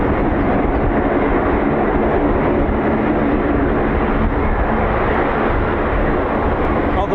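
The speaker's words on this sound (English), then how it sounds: "Oh, the wind is absolutely awful, trust me." Strong wind gusting across the RAF Mildenhall airfield makes a steady, loud broadband roar that buffets without pause for the whole stretch.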